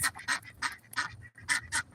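Ducks quack nearby in a quick run of about seven short, bright, nasal calls spaced unevenly, each one distinct, with quiet gaps between them.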